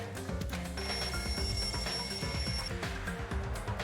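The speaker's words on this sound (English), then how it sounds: "The lounge's wall clock alarm started ringing at 5:30." A wall clock alarm in the Danganronpa 2 video game rings steadily for nearly four seconds, a sustained bright bell tone layered over background music.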